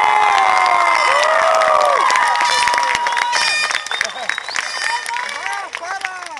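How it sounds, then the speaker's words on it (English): A graduation crowd claps and cheers for parents at a high school ceremony, loud and lively with shouts and whoops, while tonal squeals and voices ride over the clapping, which eases somewhat in the last few seconds. "So graduates, give your parents a big round of applause."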